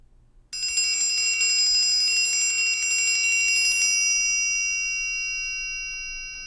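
A triangle is played with a slower roll, its repeated strikes audible as a pulsing, bright metallic shimmer for about three seconds. The ringing then sustains and gradually decays on its own.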